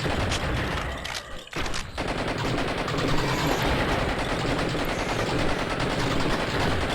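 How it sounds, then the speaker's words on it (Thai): Rapid-fire gun in Blood and Bacon gameplay, a loud continuous rattle of shots running nearly unbroken, with a brief dip partway through before the barrage resumes. "ปืนนี้รัวมาก"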